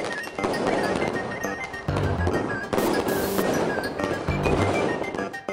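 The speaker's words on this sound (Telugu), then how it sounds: "అనుచరులు బాణసంచా కాల్చి సంబరాలు చేసుకున్నారు." Firecrackers burst at a celebration in Kodangal, a rapid dense string of loud crackling pops and bangs with brief gaps, continuing for several seconds.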